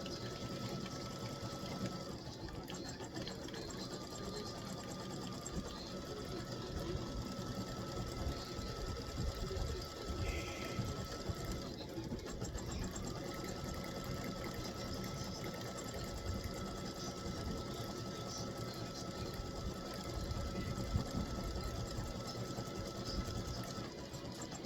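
An embroidery machine stitches the word king, a steady fast mechanical whirr with a constant rhythmic hum, close and moderately loud, with no talking.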